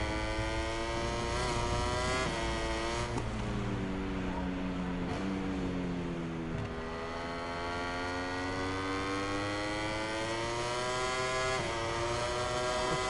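A Ducati racing motorcycle in MotoGP 22 screams at high revs with rising and falling whines through gear shifts, steady and close, while someone talks over it.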